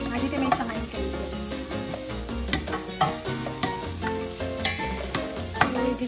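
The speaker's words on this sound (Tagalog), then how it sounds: "Igisa tayo." Onions sauté in a hot pan for a Filipino pinapaitan, with a steady sizzle broken by repeated scraping and stirring strokes. Music and a voice sit in the background.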